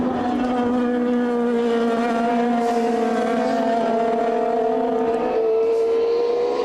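Formula 3000 race cars at San Marino near the end of a 2002 race, a loud sustained engine whine with steady tonal pitch, gradually shifting as the cars pass.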